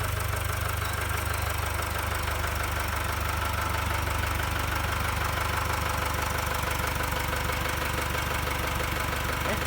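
The diesel engine of an XCMG LW156FV wheel loader idles at a palm yard, a steady, dense mechanical rumble with a knocking texture that holds close and constant throughout.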